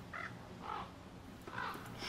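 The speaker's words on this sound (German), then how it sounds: "Also hier sind Vögel." Birds in the video game Don't Starve Together give rough crow-like caws, three or four evenly spaced calls over a steady background ambience, with no talking.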